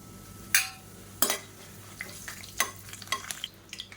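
Whole spices and curry leaves fry in hot oil in a pressure cooker, with soft sizzling under sharp scrapes and clinks of a spoon against the metal pot, several distinct strikes spaced irregularly, close and fairly quiet.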